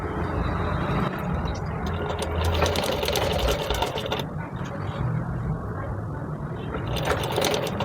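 A domestic sewing machine stitches fabric for a child's umbrella frock, running in a steady fast mechanical rattle throughout, close up and continuous.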